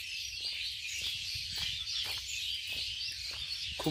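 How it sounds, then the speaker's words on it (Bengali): Birds call in a forest: a dense, continuous layer of high chirping and twittering, with a few sharper, lower calls repeating at a steady pace over faint background noise and no speech. "পাখির আওয়াজ আপনারা শুনতে পাচ্ছেন কিনা জানি না"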